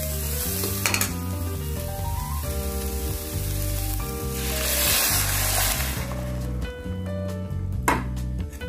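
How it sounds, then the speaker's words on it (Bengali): Chana dal added to a hot spice masala in a pan in a Bengali-style coconut chana dal, sizzling steadily with scraping stirs and music-like tonal hum underneath, loud and continuous. "ডালটা দিয়ে দিলাম, এখন এটা ভালো করে নেড়ে নেব।"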